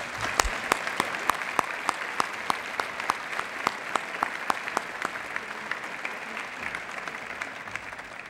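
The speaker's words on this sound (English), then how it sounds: "Please join me in giving them another round of applause." A round of audience applause at a college's annual state-of-the-college address, steady and moderately distant, with a few sharper individual claps standing out above the wash.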